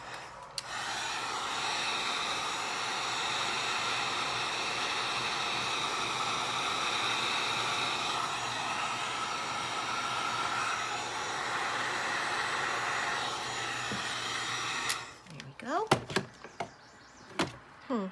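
A heat tool blasts hot air onto washi tape dusted with embossing powder, a loud, steady rushing hiss that runs for about fifteen seconds before cutting off into a few scattered clicks and handling noises.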